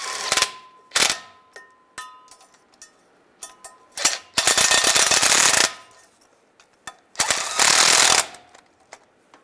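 Bolts being snugged down on a 2007-2013 Chevrolet Silverado transfer case, sharp ratchet clicks in quick bursts alternating with longer rapid ratcheting runs, close and loud with short pauses between.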